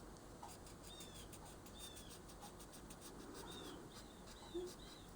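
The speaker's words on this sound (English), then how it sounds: "Listen to the birds." Faint, distant birds give thin high chirps and short whistles outdoors near a feeder, a few scattered notes over a steady low background hiss.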